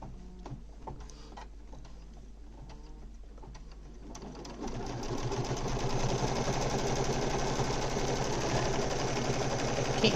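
An embroidery machine stitches a mug rug, its rapid mechanical needle chatter starting quietly with a few clicks, then swelling into a loud, steady whir from midway on.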